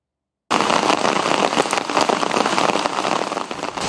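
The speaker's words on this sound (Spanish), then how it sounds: "una fuerte lluvia acompañada de granizo" Heavy rain mixed with hail pounds down across Quito in a loud, dense, steady roar of impacts, starting abruptly and continuing without a break.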